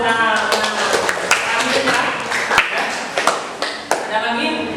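A classroom of students clapping hands, scattered sharp claps over ongoing talk.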